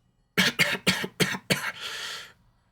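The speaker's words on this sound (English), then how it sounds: "How long have you had that cough?" A burst of five harsh, close coughs in quick succession trailing into a raspy wheezing breath, alone in a quiet room.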